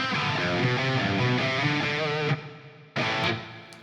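An electric guitar plays an 80s-style riff with distortion and a reverb effect, sustained chords ringing close and loud, then cutting off before a brief restart.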